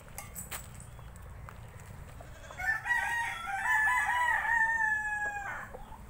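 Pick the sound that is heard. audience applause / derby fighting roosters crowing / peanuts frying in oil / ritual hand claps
derby fighting roosters crowing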